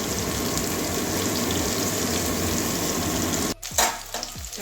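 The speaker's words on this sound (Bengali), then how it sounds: "ওদিক ওদিক করে ভেজে মানে নাড়িয়ে নাড়িয়ে ভেজে নিয়ে আসি" Pointed gourd sizzling steadily in hot oil in a pan, a dense continuous fry that breaks off near the end into a few clattering stirs.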